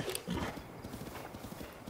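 Horse hooves clip-clop steadily on the ground in The Legend of Zelda: Breath of the Wild, a moderately loud, even walking rhythm with a brief whinny-like sound near the start.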